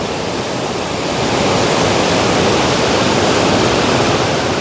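Loud, steady roar of rushing water from the Irachil Palam waterfall near Thekkady, a constant broadband wash filling the whole stretch with no other sounds.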